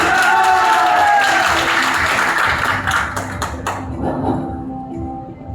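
Audience applause for the speaker at a DXN business seminar: a dense, loud burst of clapping that thins out and fades over several seconds, with a few scattered claps near the end.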